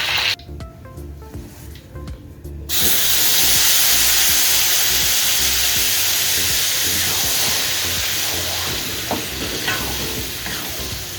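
Cooking oil poured into a hot pan after fish has been fried bursts into a loud, continuous sizzle with hissing steam, following a brief stretch of quieter clattering and stirring.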